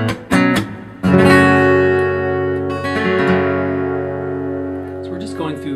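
Acoustic guitar plays the closing bars of a song in a live acoustic arrangement: a few sharp percussive slaps and plucks, then a loud strummed chord left ringing and slowly fading, close and alone.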